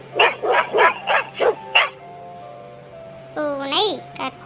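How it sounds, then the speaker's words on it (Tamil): A dog barks six times in a quick, loud, evenly spaced run, followed by a short tonal whine and a higher yelping whimper near the end, close up and with no talking. "நாய் குரைக்கும்."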